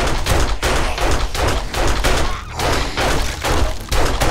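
Rapid pistol fire in the survival game 7 Days to Die, a steady run of sharp, punchy shots about every third of a second, loud and close, with no talking over it.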